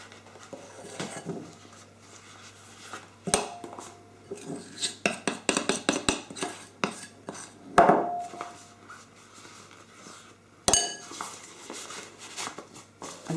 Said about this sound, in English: Put your star nozzle in the bottom and then just spoon in